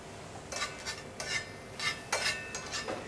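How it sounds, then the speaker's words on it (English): Eggplant is tossed around a pan for Sicilian caponata, with a utensil scraping and clinking against the metal in several short, uneven strokes over a faint background sizzle. "My eggplant, just toss that around the pan."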